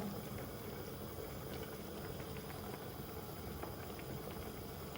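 Cabbage stalks and mixed vegetables boil in a pot, a steady faint bubbling and rumbling simmer, continuous and close.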